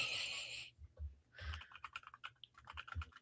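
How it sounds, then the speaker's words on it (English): Someone types on a computer keyboard without looking at the keys, producing a quick irregular patter of soft keystrokes after a brief rustle, quiet and close with no talking. "We're going to see how accurate my typing is without me looking at it."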